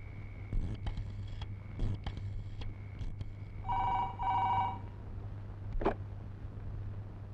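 A telephone bell rings in a Malayalam comedy scene: two short electronic ring bursts, fairly quiet, over a low steady hum and a few scattered clicks and knocks.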